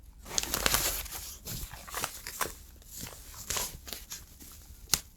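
A new keyboard is unwrapped from a thin bag like light bubble wrap at night, giving close, quiet crinkling and rustling with scattered sharper crackles and taps.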